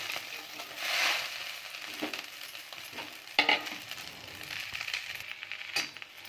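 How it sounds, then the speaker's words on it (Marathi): Ambadi (roselle) leaves sizzle and hiss in a hot wok, with a few louder scraping stirs and clinks of a spatula against the pan. "याच कढईमध्ये आपण ही आंबाडीची भाजी टाकणार आहोत आणि सॉफ्ट होईनपर्यंत होईन तोपर्यंत आपण हे शिजवून घेणार आहोत"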